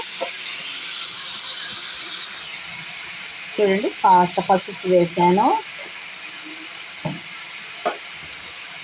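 Raw moong dal frying in a hot tempering of oil in a pan gives a steady, soft sizzle throughout, with a few faint taps. Someone talks briefly over it midway.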